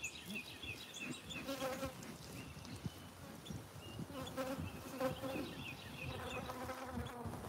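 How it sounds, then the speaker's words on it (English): Honeybees buzzing close by during a honey harvest at the hives, a dense, continuous drone of many wings with individual bees passing near, and faint talk in the background. "Is this a regular bee on me or is it a queen?"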